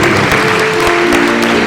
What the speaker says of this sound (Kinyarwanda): komera amashyi menshi Imana